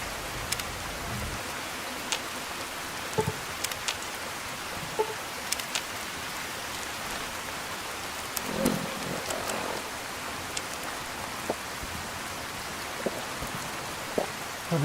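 Steady rain falls in Fallout: Tale of Two Wastelands, a constant hiss of drops hitting surfaces, with scattered sharper splats and taps throughout and no talking.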